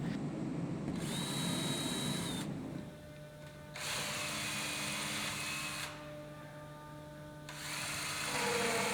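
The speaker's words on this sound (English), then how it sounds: "Pre-drill the holes for the screws into the side of the rafters and into the short roof posts." A power drill whirs in several bursts, pausing and restarting, each run a steady high whine boring pilot holes into wooden gazebo rafters and roof posts.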